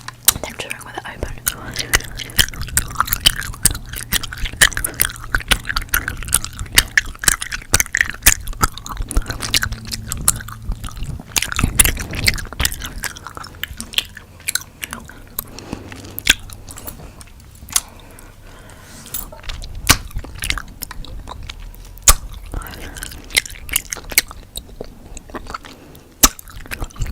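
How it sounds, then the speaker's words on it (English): Close-up, wet open-mouthed chewing in an ASMR setting: continuous smacking, squelching and clicking mouth sounds right at the microphone, with soft whispering mixed in. "I'm chewing with it open."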